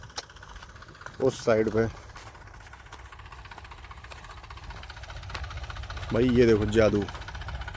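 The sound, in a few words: tractor engine running while driving in a barley field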